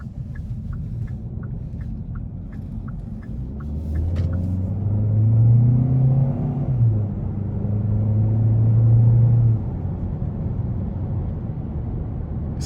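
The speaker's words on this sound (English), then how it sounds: "let's go ahead and see how this Sonata SEL Plus does that on the road" A 2022 Hyundai Sonata SEL Plus rolls along the road, a steady low engine and road rumble swelling as it accelerates, with tyre and wind noise beneath; brief faint ticking sounds early on.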